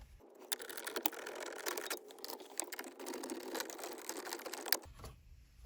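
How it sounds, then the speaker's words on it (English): A 10mm socket on an extension loosens the head unit bolts in a Lexus NX (NX200t/NX300h) dash, giving a steady run of close, quick ratcheting clicks and mechanical patter for several seconds before stopping. "Now we're going to use our 10mm socket with an extension to remove two bolts that hold this head unit in place."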